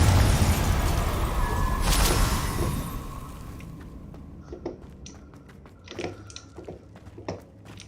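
Confringo spell explosions in the video game Hogwarts Legacy: a loud, roaring blast that fades over several seconds, followed by scattered smaller pops and bursts.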